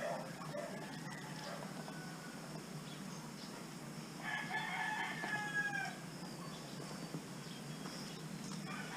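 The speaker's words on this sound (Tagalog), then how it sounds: "Merong Rhode Island Red at saka Patu" Rhode Island Red chickens on a farm with a rooster crowing, a drawn-out crow standing out over steady outdoor background noise and scattered bird sounds.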